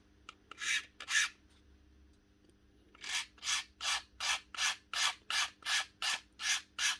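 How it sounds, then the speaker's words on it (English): Dirt is scraped off a metal badge on a power tool from a fishing boat: two scrapes, a pause, then about ten rhythmic back-and-forth rasping strokes, close and clear with no talking. "If you just give it a wee scrape"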